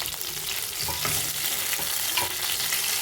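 Chicken frying in a pan gives a loud, continuous sizzle with a few scraping stirs of a utensil breaking through the hiss.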